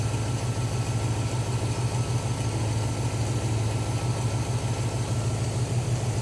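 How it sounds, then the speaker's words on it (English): A car engine, back running after 16 years off the road, idles steadily with a low, even rumble and a regular pulsing throb, continuous and close, no voices. "It's idling a lot better though."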